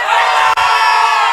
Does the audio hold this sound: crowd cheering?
yes